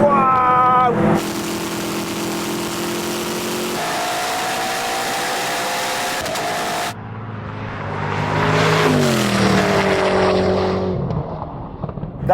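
A Koenigsegg Regera launches in a drag race, its engine note loud and sustained as it pulls hard through one long surge, then rises again in a second climbing rev.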